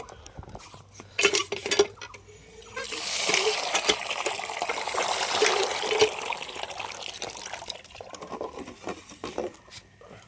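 Raw rice is swished and rubbed by hand in a pot of water in a home kitchen, giving a steady wet sloshing and grainy rustle, with lighter clinks and splashes before and after.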